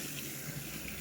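Hot tap water runs steadily over hands being washed after they turned freezing cold in Iceland, a soft, continuous close splash with no talk.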